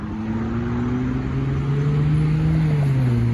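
A dark blue Ferrari 296 GTS sports car driving past on a European street, a loud steady engine drone with a low tone that rises slightly and then drops as it moves by, close to the listener, no talking.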